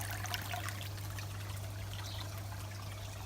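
Water trickling steadily from the waterfall on a Cove Jubilee 36-jet hot tub, an even splashing wash over a constant low pump hum, close and unbroken.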